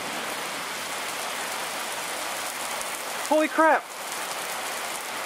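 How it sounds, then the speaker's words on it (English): Rain beginning to fall outdoors as a constant even hiss, broken briefly by a short exclaimed voice partway through. "Okay, it's starting to rain over here now."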